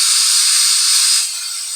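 Pressure cooker whistling while boiling chickpeas with water and baking soda, a loud continuous high hissing steam jet that drops to a softer hiss near the end before cutting off, with no talking.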